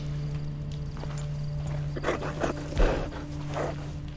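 Horse hooves clip-clop at a steady walking pace in the online mode of the video game Red Dead Redemption 2, moderately close and mostly alone, with a few louder hoof thuds near the end.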